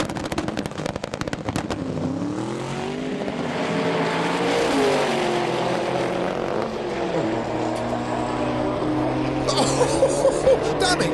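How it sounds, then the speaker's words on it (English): A twin-turbo, street-legal Rolls Royce drag racing car roars loudly at a drag racing event, its engine note rising and falling across the run with crackling bursts at the start and end. "Matt Wright with the Rolls Royce. Yeah, it's street legal."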